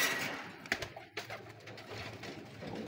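Young pigeons in a loft coo repeatedly at close range, soft throaty calls rising and falling with no talking.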